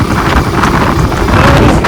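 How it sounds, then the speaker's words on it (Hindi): Strong wind buffets the microphone while riding in an open loader rickshaw, a loud continuous rushing roar with gusty surges and no talking. "खुला खुला है, बड़ी जबरदस्त हवा चल रही है।"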